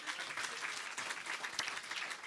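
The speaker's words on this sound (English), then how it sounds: "let's give it a round of applause" Audience applause at an open day event, a dense, steady wash of many hands clapping throughout, fairly loud and continuous with no voices on top.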